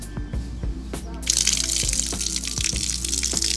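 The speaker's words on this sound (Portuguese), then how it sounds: "a água já caindo aí" Clean water gushes and splashes into a freshly cleaned water tank, a steady loud pour starting after a second of drips and knocks, continuing to the end.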